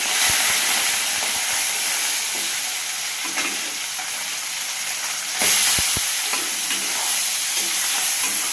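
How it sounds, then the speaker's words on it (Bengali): Small bele fish sizzle loudly in hot oil, a dense steady hiss with a few sharp clicks and spatters as pieces hit the pan, brief surge of crackling midway. "আস্তে আস্তে করে আমি মাছগুলো ভেজে নেব।"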